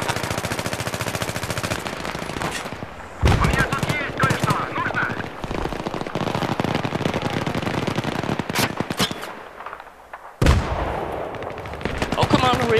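Rapid automatic gunfire and explosive bursts from a Battlefield 3 multiplayer match, loud and dense across the whole stretch with brief lulls, while a player talks over the shooting.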